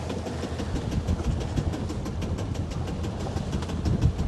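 A small sailboat's inboard engine on a Contessa 26 crossing the Irish Sea runs steadily, a continuous low rumbling drone with faint rhythmic knocking, close and unbroken.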